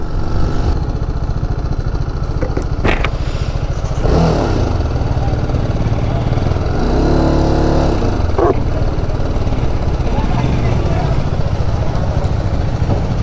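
Motorcycle riding in Assam with a steady engine drone and occasional clattering, loud and continuous, while people talk over it.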